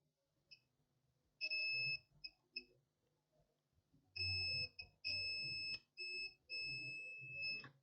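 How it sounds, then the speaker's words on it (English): Short high-pitched electronic beeps from a multimeter's continuity tester probing a dead HP ProBook 640 G3 laptop board, first a few brief chirps, then several longer sustained tones, with faint clicks and rustling between them. "This side of capacitor is beeping."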